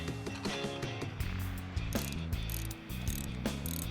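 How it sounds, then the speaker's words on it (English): A 21mm socket on a ratchet works loose the bottom adjuster bolt of a Showa SFF motorcycle fork, giving a rapid, close, continuous clicking of the pawl with a few heavier knocks. "we'll use a 21mm socket and ratchet to loosen that bottom adjuster bolt"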